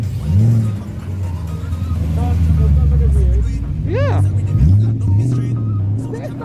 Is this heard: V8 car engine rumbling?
yes